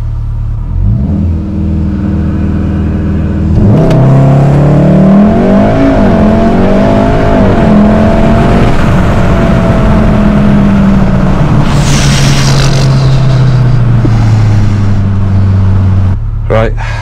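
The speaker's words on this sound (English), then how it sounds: "here is the R doing its 0-60s" A VW Golf R launches hard from a standstill with traction control off, its engine revving up loudly through the gears in a sustained, rising roar that continues for most of the run.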